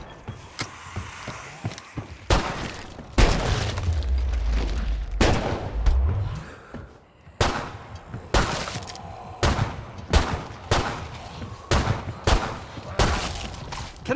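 Gunfire in Killing Floor 2 during a Hell on Earth solo match as a Demolitionist: a long heavy rumbling blast, then loud single shots spaced at an uneven, steady pace.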